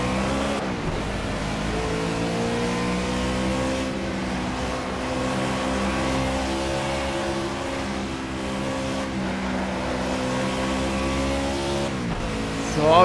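A Ford Fusion NASCAR race car in Project CARS at Watkins Glen roars at high revs, a steady loud engine drone with gear-shift dips and slight pitch swells, with no voices.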